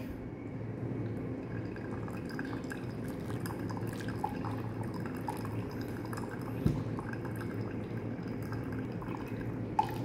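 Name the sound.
hot water poured over coffee in Kono drip brewer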